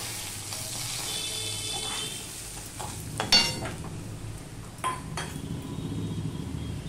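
Ground cumin, coriander and turmeric stirred into hot oil in a pan for a Bengali loti dish, a steady soft sizzle broken by a few sharp scrapes of a spatula against the metal, close and without talk.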